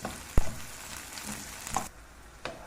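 Garlic and almonds frying with onion in a pan, a soft steady sizzle punctuated by a sharp clatter early on and a few lighter utensil knocks, quiet and close.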